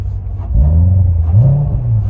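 Chevrolet Corvette V8 engine revving, heard from inside the cabin with the windows up: a deep baritone rumble rises in pitch and swells, then holds steady, close and loud, with no talking.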